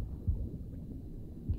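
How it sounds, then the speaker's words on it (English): Low, muffled heartbeat thuds from the Mission: Impossible Rogue Nation film, two soft beats about a second apart under a dull, rumbling hum. "Oh, not the heartbeat."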